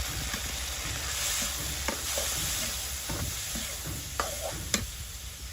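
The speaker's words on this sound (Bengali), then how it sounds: "এই তেলের উপর হচ্ছে যে মাছগুলো কষাই নিব।" Fish frying in fish oil in a village kitchen pan, a continuous sizzle with occasional stirring knocks and scrapes throughout, close and fairly quiet, with no talk.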